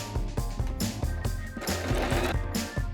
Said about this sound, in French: Puis surpiquez à la machine à 1 mm du bord.